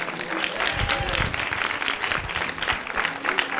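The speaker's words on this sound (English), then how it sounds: "Give the Lord a rousing round of applause." A church congregation applauds at a worship service, a sustained wash of many hands clapping over a few seconds, with scattered voices and cheers mixed into the crowd noise.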